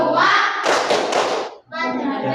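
Children's rhythmic hand clapping for the Indonesian rain clap game, voiced chant mixed with claps in a classroom, loud and close, with a short pause before the chant resumes.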